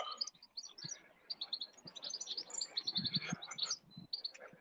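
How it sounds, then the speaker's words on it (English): Birds chirp and tweet repeatedly outdoors along a quiet residential road, bright overlapping calls at moderate distance with faint low rustling beneath and no talk. "All I can hear is birds tweeting."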